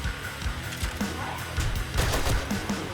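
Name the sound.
automatic gunfire in the video game 7 Days to Die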